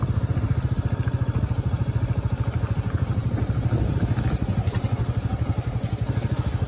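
Royal Enfield Meteor 350 motorcycle in first gear on barely opened throttle, crawling up a rough, potholed hill road near Nainital: a close, steady single-cylinder thump with rapid even pulses and some rattle.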